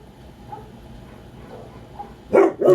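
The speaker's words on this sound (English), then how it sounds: "She starts barking every time he leaves." A pet dog left at home barks at the window as her owner leaves, a quiet room hum at first, then two loud sharp barks close together near the end.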